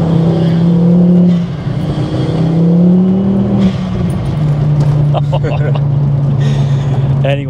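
Hybrid turbo 380bhp Mk2 Ford Focus ST engine revving loud and close, rising and holding strong tones, with someone talking over it.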